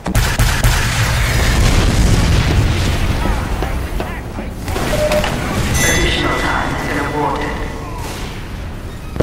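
Rocket explosions in Team Fortress 2, loud repeated booms and bursting blasts through a busy battle din, with a player's voice talking over the fighting.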